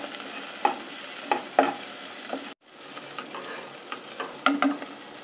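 Masala for a white chickpea curry is stirred and sautéed in a pan, with a soft continuous sizzle broken by repeated scraping strokes of a spoon, close and clear, with a brief pause partway through.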